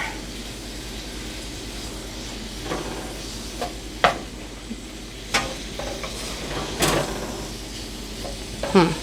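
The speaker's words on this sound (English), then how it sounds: "add the sausage in there because it can cook a little bit more, and it'll add its flavor and its fat" Sausage and peppers cooking together in a pan, a low continuous sizzle broken by scattered clanks and scrapes of a utensil against the pan.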